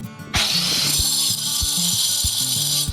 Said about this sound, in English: I'm using my small grinder with the diamond blade to cut a channel for this rebar so this corner block doesn't bump into it